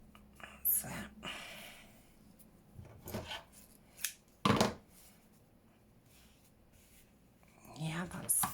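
Paper being cut for an old-book journal cover, a few quiet close snips and rustles spread out in bursts, with soft talk alongside.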